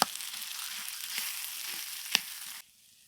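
Boiled taro fried with spices and stirred with a spatula for a katla fish curry, giving a steady, close frying sizzle with a few scraping strokes before it cuts off abruptly.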